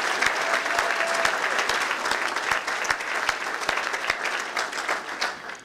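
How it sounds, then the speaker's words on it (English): Banquet audience applauding at a high school sports Hall of Fame dinner, a full, sustained roar of many hands clapping with some sharper individual claps standing out, loud and close. "So let's have a nice round of applause for the Hall of Fame committee."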